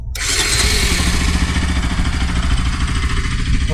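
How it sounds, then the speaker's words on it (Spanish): A Bajaj Pulsar NS 200 motorcycle engine catches after a brief start and settles into a steady, close, rumbling idle with a regular low pulse, heard alone without talk. "Vamos a prender la moto."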